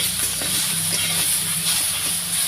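Drumstick flowers fry in a pan with turmeric, giving a steady loud hiss and sizzle that runs without a break, with faint scraping from stirring underneath.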